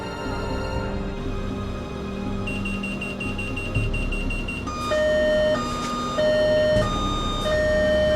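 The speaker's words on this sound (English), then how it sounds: "all of a sudden the CO alarm in the section goes off" A carbon monoxide alarm sounds in an underground mine section: loud repeating electronic tones that pulse and change pitch over a steady rumble of machinery.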